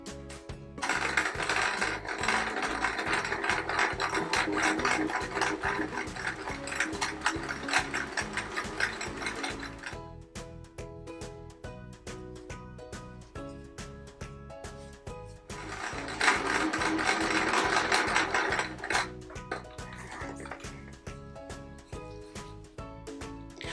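Sewing machine stitching quilt pieces together, a fast steady mechanical clatter of needle and gears running in two longer bursts with a quieter ticking stretch between them, close and fairly loud.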